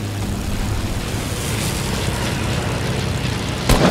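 A steady broadband airplane engine drone from the Fortnite video game, holding evenly for several seconds with a short thump near the end, no talk over it.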